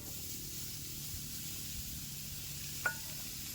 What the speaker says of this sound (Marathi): मगाशी जी कांदा चिरला होता तो कडात टाकून घेतलेला आहे